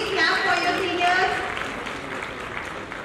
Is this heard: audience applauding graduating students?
yes